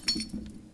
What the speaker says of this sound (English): I just smashed the window.